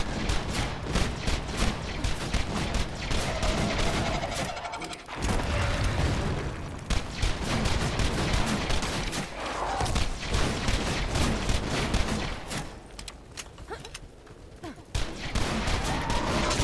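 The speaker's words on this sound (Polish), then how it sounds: "ta wybuchowa, broń wybuchowa jest naprawdę świetna" Explosive weapons firing in the video game Borderlands 2 during a co-op fight, with dense rapid bursts of booming shots and blasts rolling almost continuously, loud and close, with short lulls between volleys.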